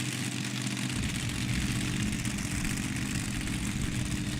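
A light modified tractor with a V8 Chevy engine at a tractor pull: a loud, steady, close engine roar with a deep low rumble and a dense mechanical hum that holds level throughout, with no voices.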